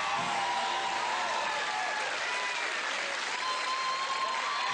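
A studio audience at a comedy game show breaks into sustained, even applause with dense clapping that holds steady and slightly distant.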